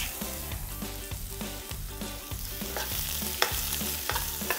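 Onion and chili hit a cumin tadka, crackling and sizzling steadily up close while a spoon scrapes the pan in a repeated rhythm, with a low mechanical hum beneath and no voices.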